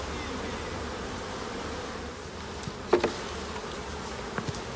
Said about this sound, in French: T'as un essaim dans l'arbre.